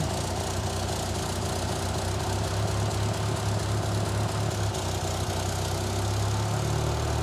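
A 1963 Austin-Healey Sprite engine with SU carburettors, running rough and with an exhaust leak, idles loudly and continuously close by, a steady low rumble that rises slightly in pitch near the end.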